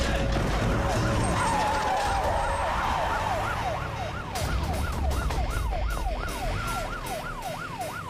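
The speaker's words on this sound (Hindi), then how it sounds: "ये तो पुलिस का सायरन है" An ambulance siren in a Hindi-dubbed action movie wails in regular rising and falling sweeps, steady and fairly loud over a background of street noise.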